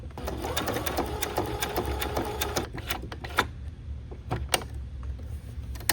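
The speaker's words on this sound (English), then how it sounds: "I'm going to come on down and sew just like I did on the other corner." A sewing machine stitches bias tape onto a needlepoint canvas, whirring steadily at close range for a few seconds, then stopping into a series of separate clicks and knocks.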